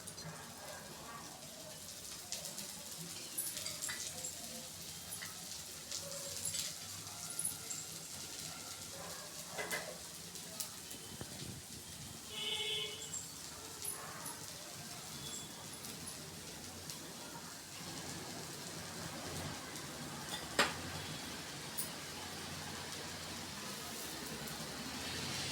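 Dosa batter frying in oil on a hot pan, a soft, steady sizzle that runs throughout with faint crackles, quiet and close, no voices.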